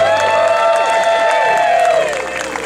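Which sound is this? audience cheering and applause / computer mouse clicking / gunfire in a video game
audience cheering and applause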